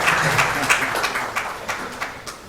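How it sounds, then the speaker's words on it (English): Scattered applause from an audience at an event on electrotechnical standards in Ghana, fading into individual claps spaced irregularly toward the end. "Clap for Ghana. And clap for the director."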